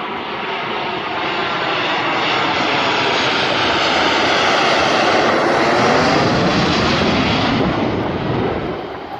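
A propeller airplane roars loudly overhead, the engine drone swelling as it passes close and then slowly fading, with no talking.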